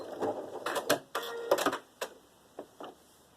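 Short bursts of mechanical clattering, a sewing machine stitching fabric in quick stuttering spurts with brief pauses between, fairly close and moderately loud.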